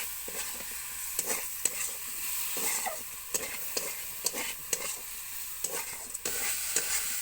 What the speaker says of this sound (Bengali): মোচাটা দিয়ে বেশ কিছুক্ষণ কষিয়ে নিতে হবে।